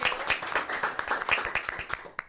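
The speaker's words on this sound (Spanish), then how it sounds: "Un aplauso." A small audience claps for a guest on a Spanish-language talk show about trans participation and abortion criminalization. The claps are scattered and close, with a few sharp individual ones standing out over a soft murmur.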